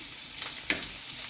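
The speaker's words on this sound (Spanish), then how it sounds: "Solamente vamos a sofreír todo esto." Rocoto chili peppers sautéing in a pan, a soft continuous sizzle with a light stirring scrape near the middle, close and fairly quiet.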